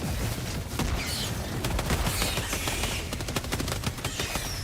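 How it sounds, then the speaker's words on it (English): Heavy, continuous battlefield fire in Helldivers 2, with dense overlapping blasts and rapid shots at steady loudness throughout, mortar impacts mixed among the gunfire. "Just getting bathed in mortars right now too."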